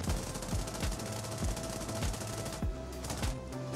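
Aircraft machine guns in War Thunder, flown on a P-40 Warhawk, fire in a close, loud run of short repeated bursts, each sharp report spaced evenly with rattling between them.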